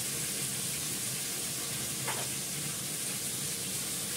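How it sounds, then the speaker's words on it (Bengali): Potatoes fry in a pan with salt and turmeric, giving a continuous, even sizzle that hisses steadily throughout with no talk. "এটাকে ভালো করে ভাজবো, নুন দিয়ে হলুদ দিয়ে কষাবো অনেকক্ষণ"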